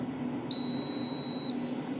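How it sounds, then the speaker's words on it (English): One long, high-pitched electronic beep sounds for about a second over a faint background hum, then cuts off. "you can observe a long beep after that"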